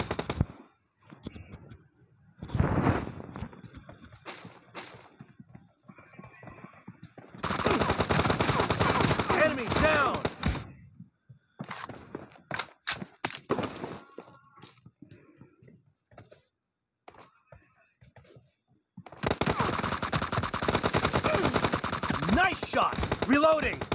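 Automatic gunfire in PUBG, loud bursts of rapid shots alternating with short single cracks and pauses, two long sustained volleys standing out, with faint game sounds between.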